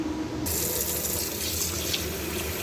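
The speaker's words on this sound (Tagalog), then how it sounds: "maghugas muna ako ng bigas" Rice being rinsed in a kitchen sink under a running tap, a steady, close gush of water that starts suddenly and continues without break.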